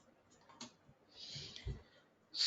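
A computer mouse clicking at a desk during a software session: a few sharp, faint, close clicks spaced apart, with quiet background and no talking.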